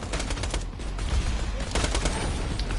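Rapid bursts of AK assault rifle fire from the video game Borderlands 2, close and loud in a dense continuous fusillade lasting nearly three seconds.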